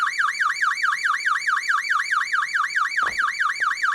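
An electronic buzzer alarm in the game Stormworks, a loud, continuous warbling wail that sweeps up and down in a rapid, regular cycle, heard alone with one brief thump.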